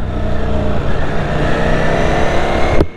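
A 2025 Ducati Streetfighter V4S motorcycle engine accelerates hard, a loud, close, raspy roar that builds steadily before cutting off abruptly near the end, with no talking.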